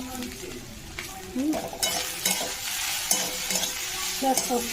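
Okra with poppy seeds frying and being stirred in a pan, a steady close sizzle with scraping spatula strokes and light clinks of utensils against the pan throughout.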